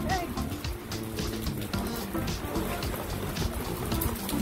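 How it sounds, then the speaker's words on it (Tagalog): Heavy rain pours steadily onto surfaces near a roadside shelter by the Rhine at Königswinter, a dense continuous wash of drumming drops with no pause, loud and close throughout. "Tapos, nabutan kami ng malakas na ulan."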